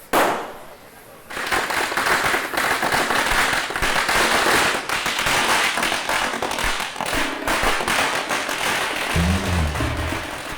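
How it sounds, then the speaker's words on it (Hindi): A string of firecrackers goes off in a long, dense burst of sharp crackling pops, loud and close, after a brief opening bang. "ओए, पटाखे जलाओ।"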